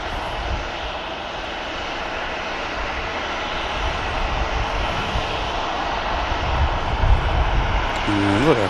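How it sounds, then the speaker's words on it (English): An EasyJet airliner taxiing past at Manchester Airport, its engines a steady loud roar that swells gradually as it rolls closer, continuous throughout with faint distant sounds beneath. "Another aircraft just rolling past is the EasyJet."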